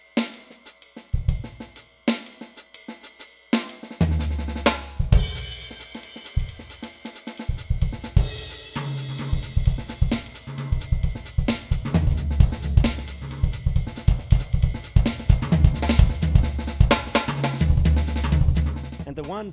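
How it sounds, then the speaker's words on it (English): A Roland TD-30 electronic drum kit plays an open, jazzy acoustic-style kit patch, with loose, busy grooves of snare, cymbal and tom hits over booming kick drums, building from sparse opening strokes into a full, continuous pattern. "The next kit I want to show you is my sort of acoustic, very open sounding jazzy kit."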